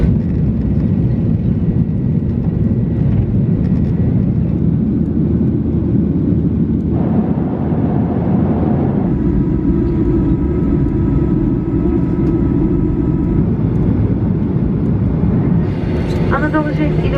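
Anadolu Jet airliner engines on a flight to Mardin, a loud, steady, close cabin roar throughout with a shift in tone midway, under passenger announcements.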